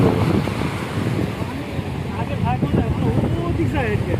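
Sea waves roll and crash along Kuakata beach in Bangladesh, a loud, steady surf wash buffeted by wind noise, while voices talk faintly in the background.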